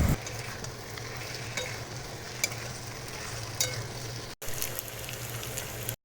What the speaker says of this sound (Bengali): তারপর 1-2 বার নাড়িয়ে চাড়িয়ে এবার আমি এটাকে নামিয়ে নেব।